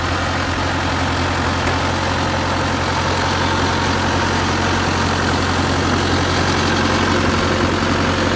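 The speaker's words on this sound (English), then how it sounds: "is driving the bulldozer" A bulldozer engine runs continuously on a farm, a loud, steady low rumble with a dense mechanical drone and no break throughout.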